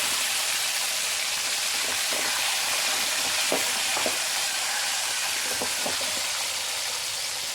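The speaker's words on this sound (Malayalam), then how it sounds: "നമുക്ക് വെളുത്തുള്ളി ഇട്ട് കൊടുക്കാം" Garlic sizzles in hot oil for a mango and ginger pickle, a constant loud frying hiss broken by a few sharp pops and stirring clicks.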